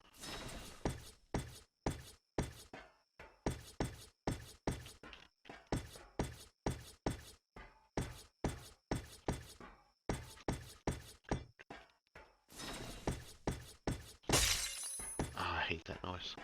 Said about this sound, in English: the sound of the greenhouse glass breaking